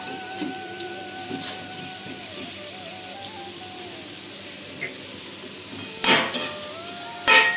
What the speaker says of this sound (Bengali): অন্তত আলুটা ভাজা হতে দাও